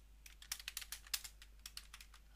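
Quick, light keystrokes on a computer keyboard during process-simulation data entry, a steady run of near, clicking taps with no speech.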